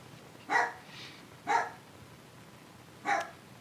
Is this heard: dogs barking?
yes